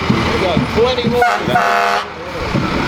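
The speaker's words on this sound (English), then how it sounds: "The sounds you hear now are from the fire department," Fire department trucks sound their horns during a Christmas parade, a few short toots and blasts close by amid crowd and engine noise.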